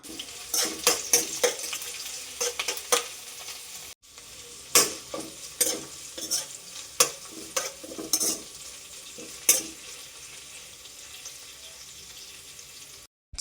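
Crushed shallots and curry leaves fry in a pan with steady sizzling and repeated sharp scraping stirs, a short pause midway, no talk.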